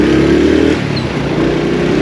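A 2022 Honda CD 70 motorcycle runs during a break-in ride, its engine a loud steady drone that dips briefly in pitch midway before settling back, heard alone with no talk.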